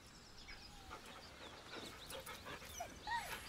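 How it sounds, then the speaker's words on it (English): A dog in Baldur's Gate 3 whimpers nervously, giving several faint, thin whines and soft panting breaths over a quiet game background. "The dog whimpers nervously, as if to urge you on."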